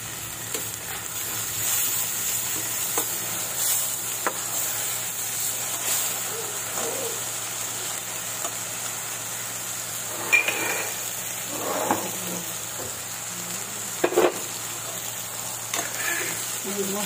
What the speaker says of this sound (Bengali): তো মশলাটা কষানো হচ্ছে, মশলাটা যত কষাবেন একদম দানা দানা হবে